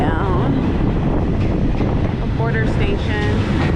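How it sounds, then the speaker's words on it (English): Train slowing down as it arrives at a border station between Thailand and Cambodia, heard from on board as a dense steady rumble with wind buffeting and a few faint squeals toward the end. "Train is slowing down."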